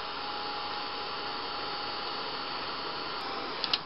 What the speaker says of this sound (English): Emboss that now with the heat gun.